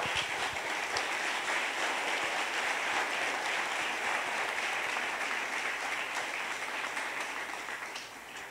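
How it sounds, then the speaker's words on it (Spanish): A church congregation applauds during a Spanish-language Sunday service, a dense, steady wash of many hands clapping together that carries on for several seconds and fades slightly at the end. "denle un aplauso al Rey, por favor"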